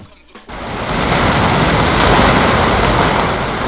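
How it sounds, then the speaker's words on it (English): A rain sound effect cuts in after a brief near-silent start, then continues as a loud, steady broadband hiss of downpour that holds for several seconds, with no talk over it. "Play the rain."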